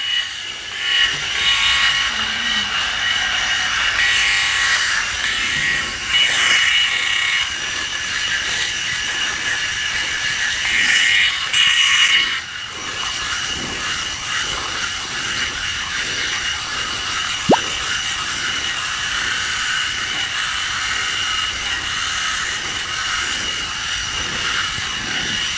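Philips Head Shaver Pro 7000 electric shaver buzzing close up while shaving a head, a loud continuous whine with rasping stroke texture throughout and slight shifts in tone as pressure changes.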